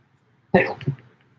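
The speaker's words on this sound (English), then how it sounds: "All right, I'm gonna sneeze." A single sharp sneeze bursts out close to the microphone, with a short trailing exhale after it, then quiet.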